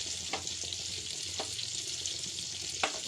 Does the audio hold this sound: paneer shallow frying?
yes